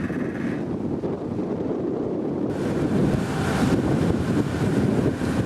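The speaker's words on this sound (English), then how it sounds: "A beautiful blue sky, a calm sea, a nice gentle breeze" Steady broadband wash of wind and calm sea aboard a sailing cruise ship under way at about 5 knots, a continuous moderate rush of breeze and water with no voices.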